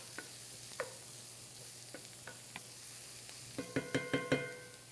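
Onion for risotto sautés quietly in a pan with a faint, even sizzle, broken by a few soft clicks and then a quick run of utensil taps near the end.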